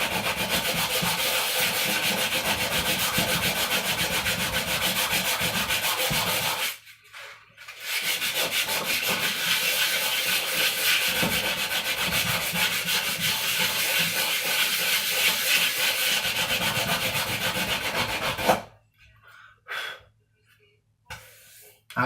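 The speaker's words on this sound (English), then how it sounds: "I doubt sanding it will do." Sanding a rusty axe head, a harsh continuous abrasive rasping that runs steadily, stops briefly, resumes for a long stretch, then breaks off into near quiet with short scrapes.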